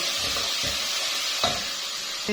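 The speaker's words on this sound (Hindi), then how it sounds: "अब इसमें 1 खाने का चम्मच लहसुन डाल दूंगी और साथ ही ये हाफ खाने का चम्मच अदरक है, ये डाल दूंगी और इसको फ्राई कर दूंगी।" Garlic and ginger fry in a pan for chicken arvi salan, a steady close hiss of sizzling oil broken by a few brief stirring scrapes.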